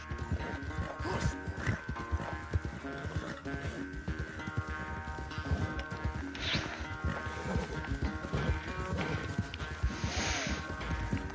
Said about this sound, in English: this horse still got speed on it.